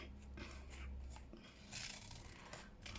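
Scissors cutting around the edge of a printed paper flower fairy picture, faint soft snips and rustling paper close by, quiet and continuous against a low hum.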